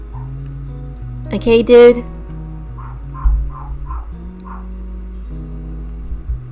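A neighbor's dog gives a burst of loud yelps and barks in the background, followed by a few fainter yips, over backing music and someone talking.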